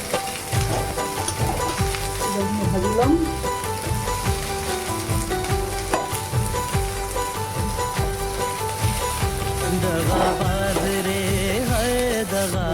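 Sidol, a fermented dried fish, fries with garlic in hot oil in a kadai, giving a dense, rain-like crackling sizzle throughout, with tuneful music playing behind it.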